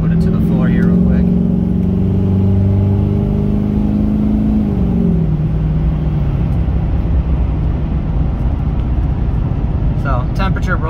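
A truck engine is floored at full throttle, a loud sustained rev whose pitch shifts partway through, with brief voices at the start and end.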